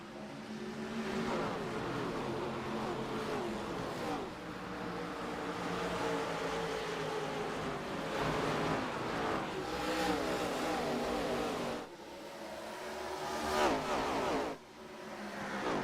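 Race cars racing at Iowa in an ARCA racing video game, with a dense pack of engines roaring and revving continuously, their pitch rising and falling, loud and sustained with brief dips.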